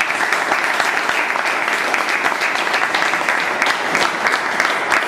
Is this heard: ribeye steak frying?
no